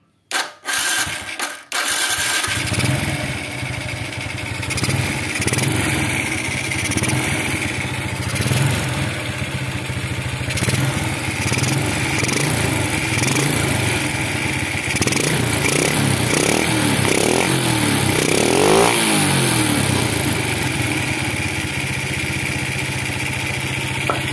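A motorcycle engine with a worn carburetor, strained by frequent heavy loads, idles roughly and unevenly, then revs up and down several times, loud and close throughout with no talking.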